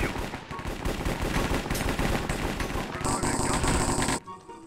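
Rapid gunfire bursts crackle through a Minecraft shooting match, loud repeated shots with a brief higher-pitched burst near the end that cuts off abruptly.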